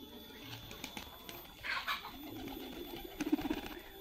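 Mixed wulung pigeons coo softly in short bursts, a louder call near the middle and another near the end, over low background rustling and faint ambient noise.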